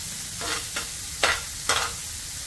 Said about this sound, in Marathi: याच प्रकारे इतर कबाबही आपण तव्यात परतून घेऊयात